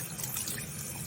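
Water running steadily from a matte black waterfall-style bathroom sink faucet, a continuous close splashing stream with no talking.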